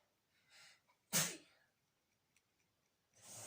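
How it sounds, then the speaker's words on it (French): A single sharp human sneeze bursts out after a nasal self-test swab, with soft breaths before it and a breathy exhale afterward, close and alone. "Effectivement, après les tests, hein, on éternue, c'est toujours pas agréable."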